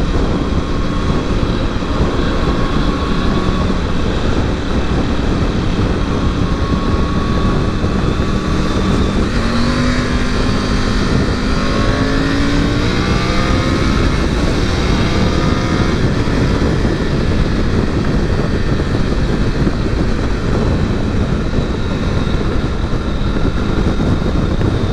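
A Triumph Tiger 900 Rally Pro motorcycle accelerates hard through the gears with a quick shifter. A loud, continuous engine roar mixes with heavy wind rush, and pitch sweeps climb and drop with each quick upshift.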